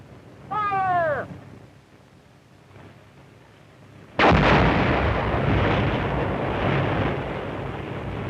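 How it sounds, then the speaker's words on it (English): Dynamite charges lowered into drilled blast holes go off to loosen near-surface iron ore: one sudden loud blast followed by several seconds of heavy rumbling debris, preceded by a brief high whistling tone. "The ore, which lies close to the surface of the ground, is loosened by blasting."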